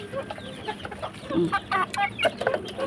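Chickens clucking close by on a village farm, a run of short, uneven clucks and squawks that grow louder toward the end.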